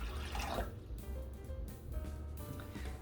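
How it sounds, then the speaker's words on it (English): Lukewarm water is poured into a container for bread dough, giving a soft, continuous splashing fill that stays quiet and close, with a little extra splash at the start. "I'm going to take my 3 cups of lukewarm water into my container here."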